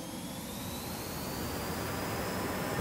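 In a flight simulator, a BAE Hawk jet trainer at high speed gives off a steady, faint rushing roar of airflow and engine, broadband and even with a thin high whine running through it, with no voices.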